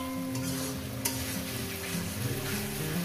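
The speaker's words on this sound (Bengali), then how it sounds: "দেখছেন বন্ধুরা কীভাবে কষিয়ে নিচ্ছি" Masala for egg curry is sautéed in a pan, a close steady sizzle with a spatula scraping and stirring through it, a single sharp tap partway, no voices.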